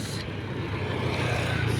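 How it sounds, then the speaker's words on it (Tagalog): Steady road traffic drones close by as e-bikes, motorbikes and private cars pass on a street, a continuous low rumble with no distinct pass-by peaks. "masyado nakadikit sa mga sasakyan na dumaraan. Ang e-bike, motor at ang mga private cars."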